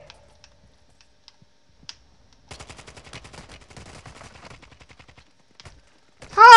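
Call of Duty gunfire: a rapid burst of many close, loud shots, followed by a sharp, loud blast at the end, with near silence and a few faint clicks before.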